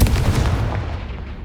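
A Confringo fire-blast spell explodes in Hogwarts Legacy, a heavy, booming blast with a rumbling low-end tail that stays loud and dense through the whole moment, no voices over it.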